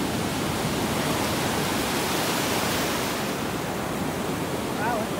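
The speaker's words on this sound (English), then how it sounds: "If the waves, I was going to get in, but the waves are just too much." Steady, loud broadband roar of ocean surf breaking at a beach on a friends' outing, with continuous wash and no clear breaks between waves, plus faint wind.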